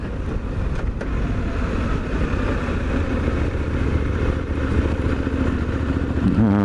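A Suzuki V-Strom 800DE adventure motorcycle rides along a gravel road, its engine droning steadily up close under a constant rumble of tire and wind noise.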